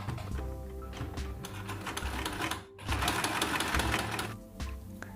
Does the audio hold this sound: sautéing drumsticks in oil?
no